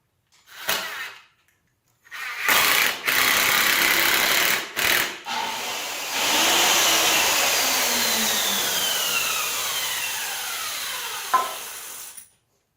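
A circular saw cuts wood for a driveway gate post. After a couple of short taps, the blade whines through a long continuous cut, close and loud, then spins down at the end.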